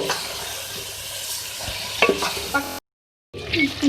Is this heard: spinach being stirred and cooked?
yes